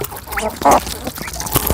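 Ducks quack close by, mixed with wet, smacking dabbling sounds of birds feeding, plus scattered rustling and a few short squeaky calls.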